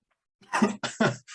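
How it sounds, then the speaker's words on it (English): A person coughs several times in a quick, harsh burst, close to the microphone. "I unmuted myself just in time to cough."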